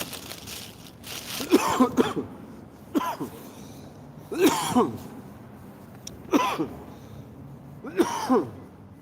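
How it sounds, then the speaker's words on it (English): A person coughs and clears their throat repeatedly in five harsh, close bursts spaced a second or two apart, with quiet pauses between. "Got me coughing."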